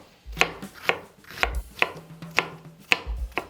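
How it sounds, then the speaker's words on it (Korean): A knife chops a quarter onion into small pieces on a board. About seven crisp, evenly spaced chops sound close by, each with a soft thud beneath it and no voices. "양파 4분의 1개 조금 더 작은 사이즈로 썰어줄게요."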